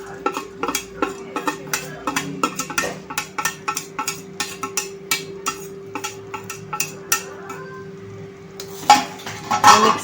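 A spoon stirring fried dry fruits into pineapple sheera in a metal pan, a rapid run of close scraping clinks in steady rhythm, then a short pause before a few louder knocks and a faint sizzle.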